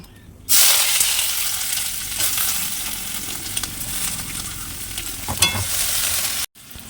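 Onions for ghugni hit a hot pan and fry with a steady close sizzle, while a spoon stirs and scrapes through them in irregular strokes until the sound cuts briefly near the end.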